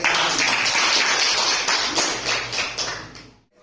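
An audience at a school event on the Merdeka curriculum claps, a loud, dense burst of many hands that keeps a steady level before tapering off and cutting to silence at the end.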